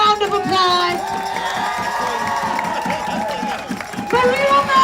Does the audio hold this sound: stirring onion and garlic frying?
no